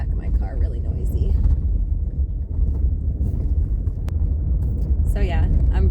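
A car driving over pebbly rocks on a woodland road with new culverts, heard as a continuous low rumbling drone with rattling from the back, under a person talking.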